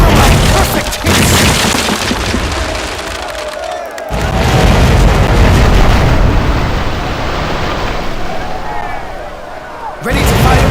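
Ship cannons firing in the naval combat game Commander: Conquest of the Americas, heavy booming blasts rolling over a dense, loud battle din, with a sharp burst near the start and another at the end, voices speaking over the mix.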